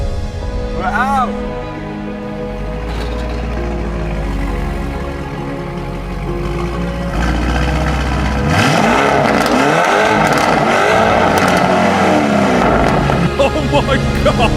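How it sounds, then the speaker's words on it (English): The engine of a Lamborghini Urus, rebuilt after an accident, rumbles low as the SUV drives out. It then swells into louder revving and acceleration, with people talking and exclaiming excitedly over it. "The Urus is driving out for the first time since the accident."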